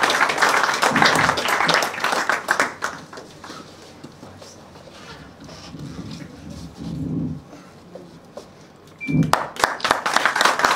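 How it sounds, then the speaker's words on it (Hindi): Audience clapping at a media event at a women's college in Baramulla, a burst of applause that fades into quieter room noise and murmuring, then swells again sharply near the end. "पुरजोर तालियां इनके लिए"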